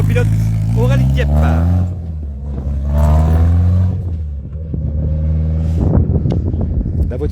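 A rally car on a special stage of the Rallye Coeur de Lion roars close by, its engine note rising and falling through gear changes as it passes, with a spectator's voice talking over it.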